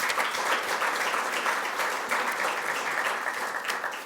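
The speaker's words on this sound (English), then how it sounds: "Please give them a round of applause as well." A luncheon crowd at a BC Construction Association networking event applauds, with even, sustained clapping and no talking over it.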